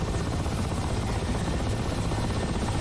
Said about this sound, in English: we're gonna try flying in the Mi-8MTV2 with the Maxflightstick Huey